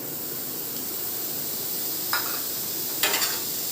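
Onions dry-frying in a wok give off a steady, low sizzle, broken by a couple of brief scraping stirs near the end. No one speaks.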